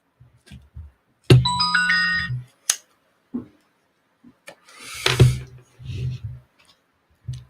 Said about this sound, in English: Yeah, that's the phone ringing off the hook.